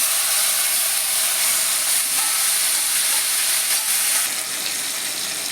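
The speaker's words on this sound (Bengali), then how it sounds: "ফোড়নটা রেডি হয়ে গেছে এবার আমি শাকটা ছেড়ে দিচ্ছি" Taro leaves hit hot oil tempered with panch phoron and a bay leaf, a loud continuous steamy hiss that holds steady and then eases slightly near the end, with no talking.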